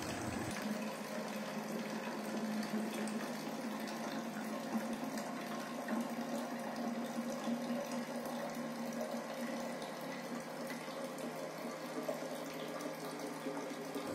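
A water can dispenser pumps water, a steady faint gurgling flow with a low motor-like hum underneath that runs evenly from start to finish after a brief quiet opening.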